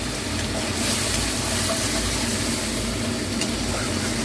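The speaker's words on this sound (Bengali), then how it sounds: "তেল দিয়ে আমি চিংড়ি মাছগুলো ভেজে নেবো।" Shrimp fry in oil with a dense, continuous sizzle and bubbling hiss, close and fairly loud throughout.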